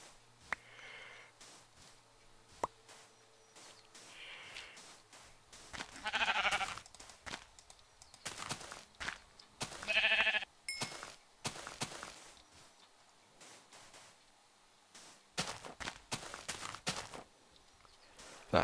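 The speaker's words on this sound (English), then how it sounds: "There's sheep." Minecraft sheep bleat now and then amid soft footsteps and light game sounds, faint and scattered over quiet stretches.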